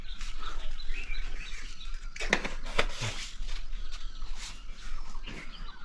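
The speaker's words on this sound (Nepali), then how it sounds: "चरा पुरा कराउँदैछ, चराले गर्दै दिन्छ।" Birds chirp around a village on a sunny morning, with a few short, bright tweets standing out over a low outdoor background hum.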